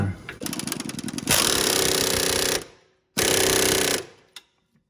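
Impact wrench hammering on the front suspension of a third-generation Honda CR-V, two loud, sustained rattling bursts, the second after a brief pause, close up with no talk.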